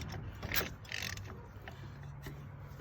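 A Yamaha 225DX Tri-Moto three-wheeler engine turned over by hand against compression, a quiet mechanical ratcheting and whooshing stroke followed by softer clicks, close and brief, with no talking.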